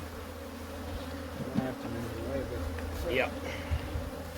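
Honeybees from mating nucs hum in a continuous low buzz close by, with a brief spoken word over the drone.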